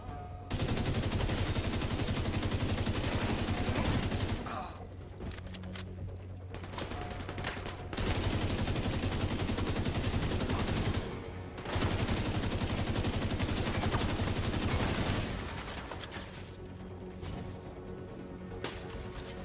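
Sustained bursts of rapid automatic gunfire in a video game, loud and close, several long volleys broken by short pauses with scattered single shots between them.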